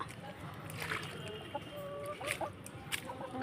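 Chickens cluck softly while being fed, scattered short clucks over a busy outdoor background with faint noise throughout.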